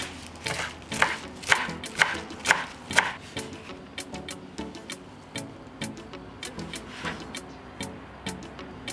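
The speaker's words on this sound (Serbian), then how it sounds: "I na kraju ću iseckati 1 vezu lista celera" Knife chopping celery on a board, a steady series of sharp crisp cuts, louder at first and then lighter and quicker, with no one speaking.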